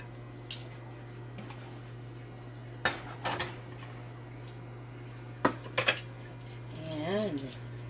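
Lamb chops are plated at home, with a few sharp, close clinks and taps of dishes and cutlery over a low steady hum and brief soft sounds in between.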